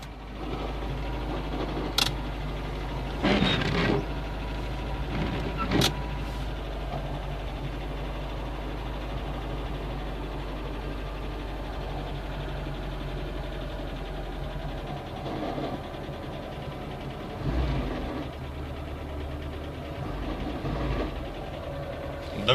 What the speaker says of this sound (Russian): Слышали, да, какой скрежет?